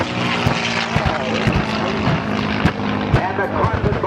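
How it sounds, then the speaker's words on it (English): Propeller drone of a WWII B-17 bomber with a P-51 Mustang passing overhead at an airshow, a steady loud roar with chatter and crowd voices mixed in throughout. "Round and now the B-17. Mustang overhead."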